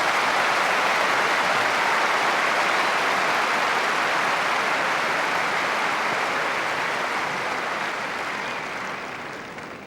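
A tennis crowd bursts into sustained applause at a professional match, a dense, loud wash of clapping that holds steady for several seconds before slowly tapering off.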